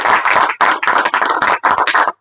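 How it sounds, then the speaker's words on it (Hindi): An event audience claps for a team in loud, close bursts of applause, the dense clapping stopping briefly twice before picking up again. "तो मैं चाहता हूं कि पूरी टीम का एक बार तालियों से हम सब अभिनंदन करें।"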